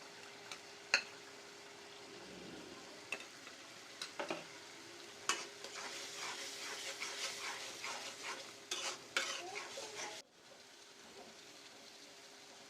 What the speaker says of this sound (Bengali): ভালো করে কষানো হয়ে গেছে আমার, আর একটু কষানো হবে।